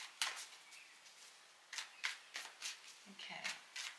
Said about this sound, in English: There's a great good shuffle.